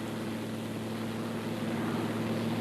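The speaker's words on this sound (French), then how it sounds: "Décollage du Lionel de Marmier avec le ministre de l'Air à bord." Giant flying boat Lionel de Marmier taking off in archive footage, a steady, continuous droning roar of its propeller engines with a constant hum and no break.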